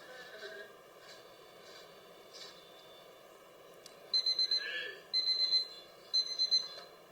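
A timer alarm goes off in a room with a child waiting for an iPad, giving three short bursts of rapid beeping, each about half a second long, fairly clear over a quiet background.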